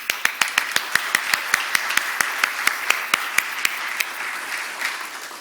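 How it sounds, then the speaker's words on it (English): Audience applause for a property owners association committee at a Chautauqua meeting, a steady patter of many hands clapping at moderate distance, holding evenly for several seconds before thinning slightly toward the end. "And I'm going to give them a round of applause."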